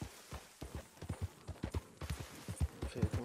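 Horse hooves clip-clop at a steady trot in Red Dead Redemption 2, the thudding beats close and evenly spaced throughout.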